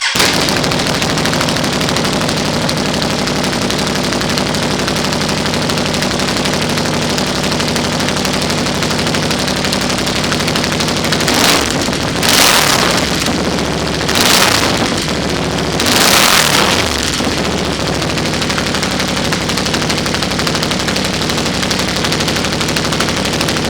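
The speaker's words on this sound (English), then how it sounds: "That's quite a bit louder than the stock muffler, but it's got a nice rumble to it." Can-Am XMR 850 ATV with an aftermarket SPI exhaust idling loudly and steadily, with a deep rumbling drone and a few sharp revs partway through.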